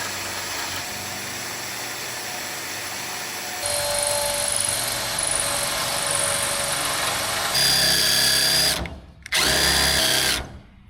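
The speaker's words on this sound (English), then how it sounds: "I drilled a couple metal screws into it." A power drill whines loudly as it drives metal screws into a tote being fitted in the bed of a 2025 Ford F-250, with two sustained bursts rising near the end separated by a short pause, close and clear with no talk.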